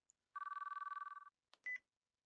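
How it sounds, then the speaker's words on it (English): A telephone rings in the visual novel game ChäoS;Child. A quick pulsing electronic ring lasts about a second, followed by a couple of short clicks and a brief tone, with silence around them. "The phone rang for a moment"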